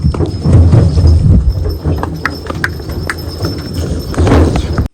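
Hooves of a bullock pulling a cart clip-clop steadily and up close at a loose walking rhythm, with rumbling cart noise beneath, on an outing in the Gir countryside.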